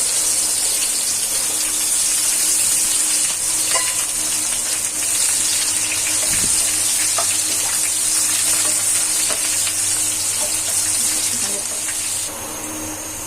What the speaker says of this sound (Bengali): তেল গরম হয়ে গেল, এর উপর 4-5টা দালচিনি, 2-3টে তেজপাতা, 2টা পেঁয়াজ কুচি দিয়ে দিলাম।